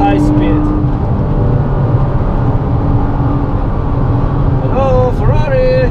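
Loud engine roar of a GT-R driven at speed on a race track, a sustained rumble with rising and falling revs and gear shifts, heard from inside the car with a voice talking over it.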